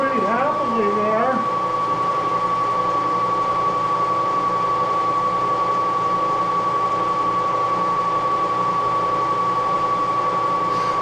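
An early Moore No. 2 jig boring machine runs with a loud, steady mechanical drone and a constant whine, and a voice is briefly audible at the start.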